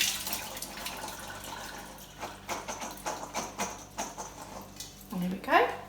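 Tap water runs steadily as drained borlotti beans are rinsed, with soft splashing and a few clatters over the flow, close and moderately loud, ending in a brief rising squeak.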